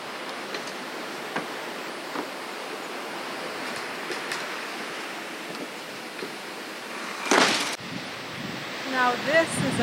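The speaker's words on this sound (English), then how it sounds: "I could sit out here all day and watch the waves crash." Waves wash in a steady, distant hiss below a trail overlooking a reservoir and the sea, with scattered faint ticks and brief voices breaking in near the end.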